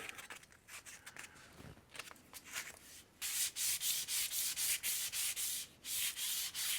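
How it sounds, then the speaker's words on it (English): Fine sandpaper rubs along a wooden atlatl, working into small grooves in steady back-and-forth strokes, soft at first and then louder, closer and more rhythmic. "When you sand these right here, you gotta get in between the little grooves and sand it up real nice."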